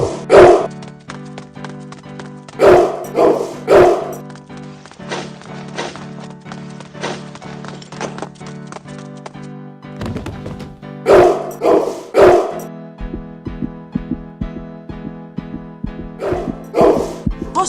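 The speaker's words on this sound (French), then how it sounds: "Le chien! Courez!" A dog barks in repeated bursts of two to four sharp barks, loud and close, separated by pauses, over a steady musical backdrop with some clip-clop-like rhythmic knocks and no speech.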